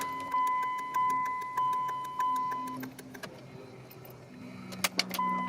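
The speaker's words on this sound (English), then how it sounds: "the fuel pump is running and it's priming that canister" Fuel pump on a 2005 Dodge Ram 3500 Cummins diesel priming an empty fuel filter canister, giving a rhythmic ticking hum in regular pulses that fades into a quieter buzz with a few clicks.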